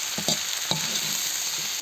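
Steady sizzling of eggplant and zucchini frying in a large cauldron over a campfire, with a few brief scraping stirs near the start and a constant crackling hiss throughout.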